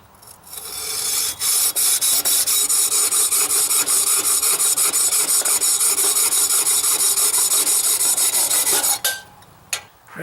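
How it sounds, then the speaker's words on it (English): A rod saw rasps through fiberglass rod for a PVC longbow build, making a loud, continuous gritty scraping that holds steady for several seconds, close up, and stops abruptly near the end. "I'm using a rod saw or tile saw to cut the fiberglass rod"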